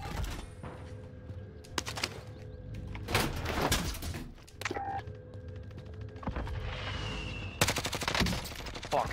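Rapid bursts of automatic gunfire and sharp single shots from Call of Duty: Warzone, loud and close, broken by clanking and door-like sliding sounds, with no talking.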